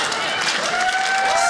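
A comedy special audience applauds after a joke, a dense wash of clapping and crowd noise with cheering mixed in, steady and fairly loud.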